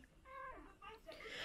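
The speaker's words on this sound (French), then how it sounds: "madame Mium Mium, le chat préféré de Juliette." A domestic cat gives two short, faint, wavering meows close by, the second rising into a higher squeak, in a quiet indoor room.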